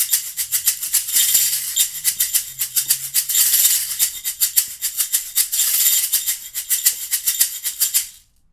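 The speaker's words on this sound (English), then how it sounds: "our ganzas. Your pattern is going to sound something like this." A ganza samba shaker playing a steady, driving group pattern of crisp, bright rattling strokes with regular accents, loud and close, with a faint low tone underneath early on before the shaking stops abruptly.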